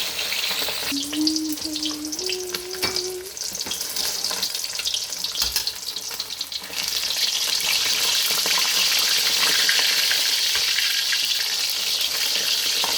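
Fish fries in a pan of oil with a broad, steady hiss that grows louder and denser partway through. A faint whistle-like tone rises in steps early on, and no one speaks.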